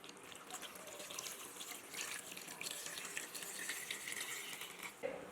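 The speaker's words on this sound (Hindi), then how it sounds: "हस्बे ज़रूरत पानी ऐड करेंगे।" Water running steadily from a tap into a cooking pot holding chicken and halved potatoes, a continuous bright splashing hiss close by with no talk.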